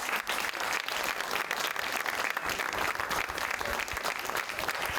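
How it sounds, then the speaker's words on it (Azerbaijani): A theatre audience claps loudly and continuously for a stage comedy performance, a dense, even wall of applause with no pauses. "Alqışlarla aktyor və yaradıcı heyəti səhnəyə dəvət edirik."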